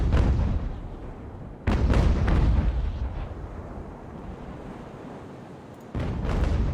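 Sailing-ship cannons fire in a naval battle in the game Ultimate Admiral: Age of Sail, heavy booming blasts rolling one into another, with a fresh salvo near the end over a low rumbling bed.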